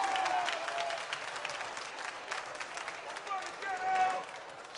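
Comedy club audience applauding during a stand-up set, steady dense clapping with crowd noise and a few whistles, moderately loud and continuous throughout.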